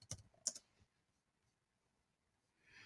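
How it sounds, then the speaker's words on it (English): Quick keystrokes on a computer keyboard, two short clustered bursts of clicking at the start, then near silence, fairly quiet and close. "I'm just going to type in the word Christmas."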